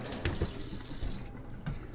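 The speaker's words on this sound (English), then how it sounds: "I want to rinse out any bits of grain with some lukewarm water at least." Lukewarm tap water runs and splashes inside a home-brewing kettle being rinsed of grain bits, a steady close watery hiss with a few soft knocks, easing off toward the end.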